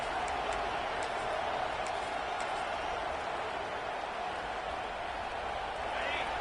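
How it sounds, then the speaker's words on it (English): A college football stadium crowd at a Texas A&M versus USC game roars as a steady, dense wash of noise, heard from a distance while a commentator talks over it. "The roar of the crowd trying to fuel this defense to keep them pinned in their own end."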